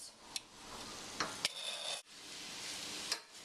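Mushrooms going into hot olive oil in a skillet with softened onions, a quiet steady sizzle broken by a few light clicks and a brief scrape of a utensil.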